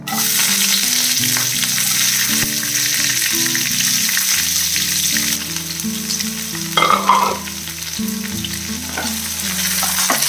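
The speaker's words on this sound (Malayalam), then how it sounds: "ഇനിയിപ്പോൾ നമുക്കിതിൽ ഈ കട്ട് ചെയ്ത് വെച്ചിരിക്കുന്ന സവാള, കറിവേപ്പില, പച്ചമുളക് ഇതെല്ലാം കൂടെ അങ്ങ് ഇട്ട് കൊടുക്കാം." Sliced onion, curry leaves and green chilies frying with squid in a hot pan, a loud steady sizzle throughout with brief stirring scrapes near the end; background music plays and no one talks.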